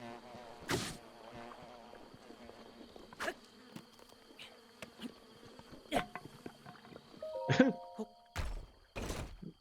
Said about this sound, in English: Funny that the bees are always an enemy, even though we need the bees.